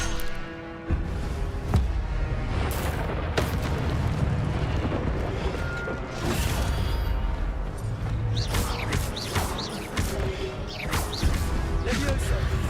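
Incendio fire spells cast in Hogwarts Legacy burst out as loud whooshing, crackling blasts with crashing impacts, repeated several times over a dense, noisy battle, with a voice speaking at points.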